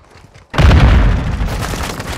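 A grenade goes off in the Call of Duty video game. It starts as a sudden loud boom after a short quiet moment, then rolls into a sustained rumbling blast with debris that lasts for nearly two seconds.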